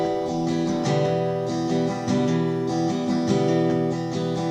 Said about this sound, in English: Then when you do the next down strum, do a hammer-on of your middle finger